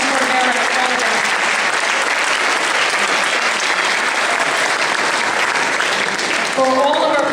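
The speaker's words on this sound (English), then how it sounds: "One more round of applause, please, for Mrs. Mersko, Mrs. Brenton, Mrs. Cordero" Sustained applause from a crowd at an evening school awards event, dense steady clapping throughout with a few voices poking through near the end.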